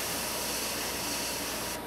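An airbrush sprays paint onto a Bandai 1/350 scale Space Battleship Yamato model, giving a steady close hiss that runs alone and evenly before cutting off abruptly at the very end.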